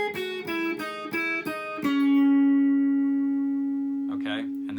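Guitar phrase in B Mixolydian: several quick picked notes, then one note held and slowly decaying, close and clear, with a short murmur near the end.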